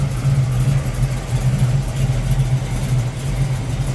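A 1972 Chevrolet Camaro SS V8 with the Z27 package idles with a steady, loud, deep rumble that holds even throughout.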